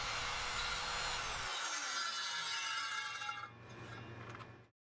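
Circular saw with its blade being lowered into wood, a high whining spin with a low motor drone that cuts out partway, then the blade winds down alone.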